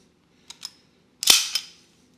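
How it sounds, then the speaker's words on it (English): Slide of an IWI Jericho 941 pistol racked to the rear, heard close and alone as two small metallic clicks followed by a sharp, loud mechanical clack with a short ringing tail. "pull the slide to the rear to check for last round hold open"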